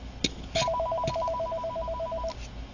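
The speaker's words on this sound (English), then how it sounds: "Sorry, that's my house phone." A house telephone rings with a steady electronic trill lasting nearly two seconds, clear and moderately loud over quiet room tone with a few small handling knocks.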